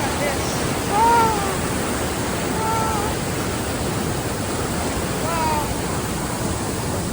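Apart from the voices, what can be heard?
waterfall water rushing down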